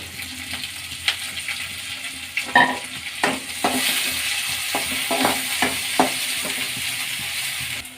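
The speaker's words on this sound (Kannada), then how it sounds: "ಎಣ್ಣೆದೊಂದು ಫ್ರೈ ಆಗಲಿ ಈಗ ಅದಕ್ಕೆ ಹಸಿಮೆಣ್ಸಿನ್ಕಾಯಿ ಸೇರಿಸ್ಕೊಳ್ಳೋಣ ಕರ್ಬೇವಿನ ಸೊಪ್ಪು" Green chillies and curry leaves fry in hot oil for a macaroni pasta dish, a steady close sizzle broken by sharp crackles and spoon clatter against the pan, with no voices.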